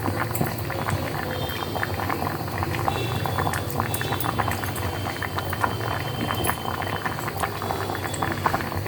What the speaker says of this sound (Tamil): இந்த பக்கம் வந்தெல்லாம் கூட்டு நல்லா கொதிச்சுட்டுருக்கு.